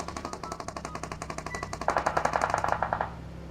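Automatic gunfire from the PUBG Mobile game crackles in rapid, evenly spaced bursts, loud and continuous, growing harsher and denser for about a second near the end before cutting off.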